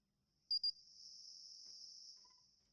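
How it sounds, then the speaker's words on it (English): Crickets chirping faintly in a quiet background, a thin steady trill after a couple of brief clicks, heard over a silent phone line with no talk. "I hear crickets."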